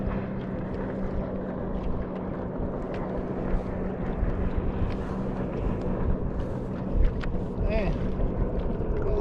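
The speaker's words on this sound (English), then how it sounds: "Every boat on the lake running by me all of a sudden." Boat and jet ski engines drone steadily nearby on Lake Seminole, with water wash and wind buffeting the microphone, a continuous low rumble that builds slightly as craft pass.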